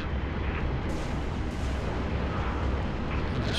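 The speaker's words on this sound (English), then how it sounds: "Somebody's shooting at me." Gunfire and explosions in the video game Halo: Reach roar as a loud, continuous barrage of booming blasts and rumble, with a few sharper bursts standing out.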